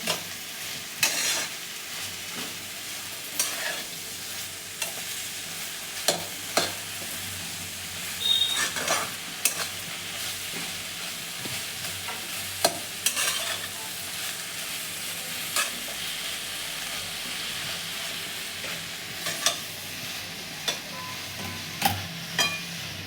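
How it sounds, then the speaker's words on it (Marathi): Chopped okra (bhindi) is stirred and tossed in a hot pan, with steady frying sizzle under repeated scrapes and clinks of a spatula against the pan, close and continuous with no talking. "आता भेंडी चांगली परतून घेऊ"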